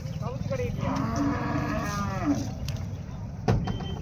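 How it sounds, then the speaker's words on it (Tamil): A Sindhi cow moos in a long, drawn-out low call, close by over steady outdoor background noise, followed by a short knock near the end. "சிந்து மாடு தானுங்கண்ணா?"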